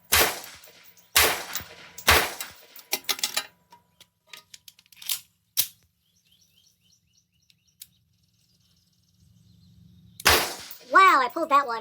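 Sig M18 pistol firing full metal jacket rounds outdoors, several sharp loud shots spaced apart with quiet gaps, then more shots near the end alongside chirping.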